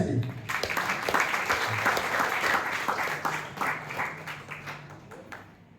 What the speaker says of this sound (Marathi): जोरात टाळ्या यांच्यासाठी.